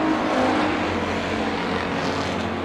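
Sprint race cars roar around the Bakersfield Speedway oval during a heat race, their engines a loud, continuous, droning snarl that holds steady throughout with no talking.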